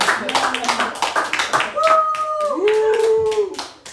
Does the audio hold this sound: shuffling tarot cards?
no